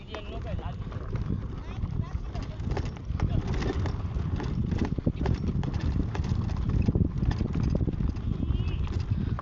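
Hooves of a Kathiyawadi horse clip-clop on a farm in a steady, busy patter of beats, heard fairly close amid outdoor commotion and nearby voices.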